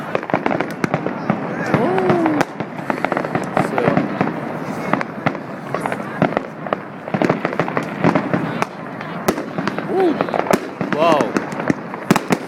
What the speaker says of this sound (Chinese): 烟火烟火。